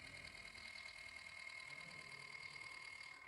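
Tractor engine from an Android farming video game drones steadily at an even level, a continuous synthetic engine hum with a high tonal whine and no talking.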